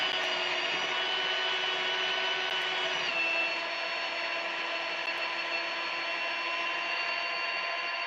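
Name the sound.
power drill bit drilling through material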